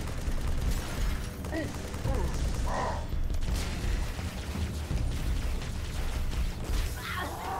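Gunfire in the video game Halo 3 ODST, dense and continuous, with rapid bursts of shots and blasts filling the scene.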